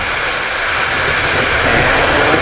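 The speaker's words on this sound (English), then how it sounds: "And liftoff." SpaceX Falcon 9 rocket lifting off on the Korea Project 425 rideshare launch, heard as a loud, steady broadband roar that swells slightly over a few seconds, with no voices.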